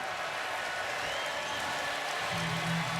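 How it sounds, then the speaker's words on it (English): Stadium crowd at a Notre Dame home football game in South Bend against Stanford, a steady broad roar of applause and cheering filling the night air, sustained and fairly loud throughout with no talk on top. "the crowd welcoming the Irish home"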